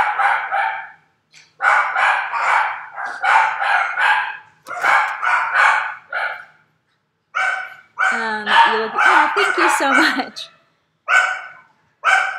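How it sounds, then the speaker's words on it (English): Puppies whimper, cry and bark in a series of short, high yelps, pausing briefly between bursts, with a voice speaking over part of it. "All the puppies just crying their little heart out."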